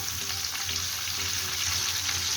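Hilsa fish head and tail, coated in turmeric and salt, frying in oil before garlic goes in: a loud, dense, continuous sizzle heard up close, steady for the whole stretch with no talking.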